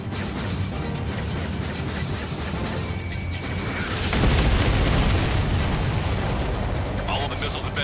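Missiles exploding in the Ace Combat 7 flight game: a loud, broad rumbling blast swells up midway and lingers over a continuous roar of engine and game noise, with radio chatter underneath.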